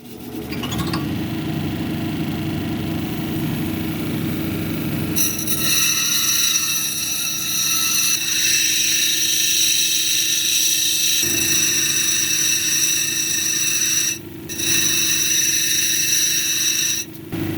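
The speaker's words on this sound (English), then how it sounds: "I got a Kingsley North 6-inch cab machine." A Kingsley North 6-inch cabochon machine grinds a marcasite cabochon, a steady high whine and whir that holds throughout, with a brief dip near the end.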